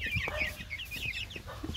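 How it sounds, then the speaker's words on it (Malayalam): Ten newly arrived chicks chirp rapidly in high, repeated peeps, close and fairly loud, without any talk. "10 കോഴിക്കുഞ്ഞുങ്ങളുണ്ട്."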